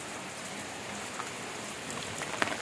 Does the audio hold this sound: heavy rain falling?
yes